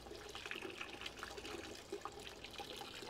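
Dirty vinegar runs out of a vintage Honda motorcycle fuel tank during rust removal, a steady close trickle and pour of liquid with small gurgles.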